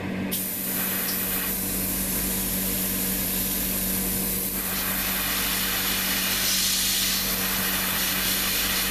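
An airbrush sprays Tamiya Clear Blue paint very lightly onto a plastic 1:60 PLUM Darius Burst Silverhawk model kit, giving a steady, close, continuous hiss that runs unbroken throughout.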